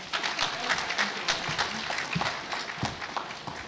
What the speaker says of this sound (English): could we have a very large round of applause for all of these students?